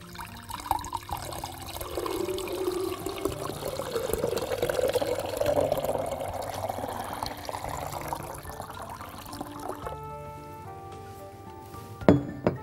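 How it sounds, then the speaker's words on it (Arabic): Water pours steadily into a container, the filling sound rising in pitch, then trickles off and ends with a small clunk. "وبتحطوا الميه جوه"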